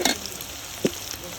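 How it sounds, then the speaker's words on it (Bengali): Prawns fry in a spiced paste in a pan in a village kitchen, giving a steady close sizzle with one brief scrape of stirring midway. "সুন্দর করে ভাজা ভাজা হয়ে গেছে চিংড়ি মাছটা"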